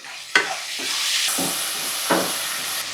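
Boiled beetroot drops into a hot tempering with curry leaves and coriander, setting off a loud sizzle and hiss, with a couple of sharp stirring scrapes against the pan.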